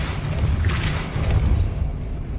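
A Depulso force spell cast in the Hogwarts Legacy video game lands as a single muffled boom and burst near the start, over a steady low rumble of game ambience.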